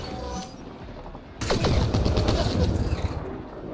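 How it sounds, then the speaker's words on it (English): Enemy gunfire in the video game Mass Effect Andromeda: after a quiet opening, a sudden loud burst of rapid shots and crackling impacts continues densely for about two seconds before easing off. "he's shooting at me."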